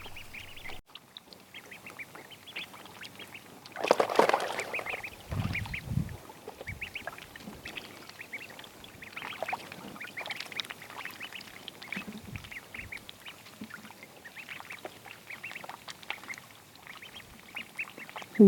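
Growing ducklings quack and splash while playing in water outdoors by a tiny house, with a burst of louder quacking and splashing early on, then softer intermittent calls.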